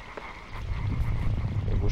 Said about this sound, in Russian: Лягушки.